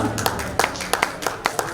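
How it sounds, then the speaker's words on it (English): An audience claps at the Global India Awards 2024 ceremony, a sparse, uneven patter of individual claps mixed with background voices in a large hall. "Can we have huge claps everyone out here?"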